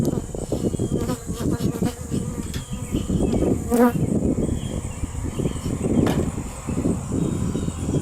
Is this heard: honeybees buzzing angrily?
yes